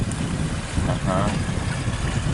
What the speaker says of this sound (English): He said it's getting windy.